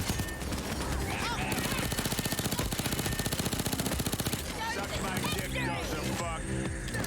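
Rapid gunfire in Super Animal Royale, a fast regular burst of shots running for several seconds amid other game effects, with speech heard alongside.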